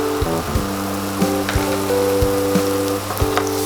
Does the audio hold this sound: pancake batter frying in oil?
yes